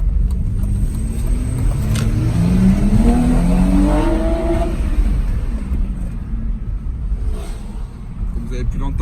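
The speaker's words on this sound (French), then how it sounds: "Comme vous avez pu l'entendre, passer les 5000, la voiture est démoniaque." BMW 323ci engine accelerating hard past 5000 rpm on a road run, a rising rumbling pull heard from inside the car that fades out, with a voice speaking over it.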